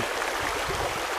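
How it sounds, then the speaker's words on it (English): A fast-flowing river, flooded into a torrent, gives a continuous broadband rush of churning water, close and steady throughout. "Now it's a bloody torrent."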